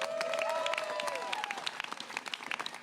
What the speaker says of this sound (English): Huge applause for Rosa, please.